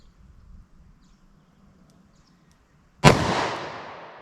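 A single sharp gunshot from a .32 H&R Magnum snub-nose revolver firing a DoubleTap copper hollow point, near and loud, cracking out of quiet and trailing into a long outdoor decay.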